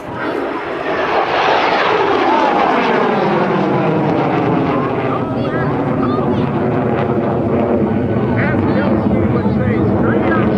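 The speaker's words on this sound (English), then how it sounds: "Randy Ball is coming in hot" A jet aircraft flown by an airshow performer makes a fast low pass at the 2013 Dayton Airshow, its roar swelling quickly and falling in pitch as it goes by, then holding a loud sustained rumble while an announcer talks over it.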